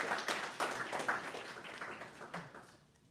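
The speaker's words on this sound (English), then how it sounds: "let's give a round of applause for Evo for opening up this community area for us" A small audience at a community gathering in a sports store claps in a short, uneven round of applause, moderately quiet with distinct individual claps that fade out after about three seconds.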